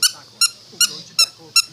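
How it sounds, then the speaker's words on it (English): A squeaky dog toy squeaks five times at an even rhythm, sharp and close, with faint background sounds between squeaks. "He likes the squeaky noise."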